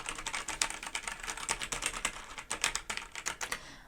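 Fast, rapid typing on a Razer BlackWidow Ultimate Stealth 2014 mechanical gaming keyboard, its keys bottoming out in a quick, irregular patter of crisp clacks, heard alone and close up.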